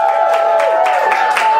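A theater audience at a TheaterSportz improv show cheers and applauds loudly and steadily throughout, a dense wash of clapping and shouts with a sustained whistle-like tone running over it.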